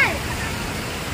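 A small waterfall pours straight down Mumbra hill after rain, a steady, close broadband rush of falling water that holds level throughout with no break.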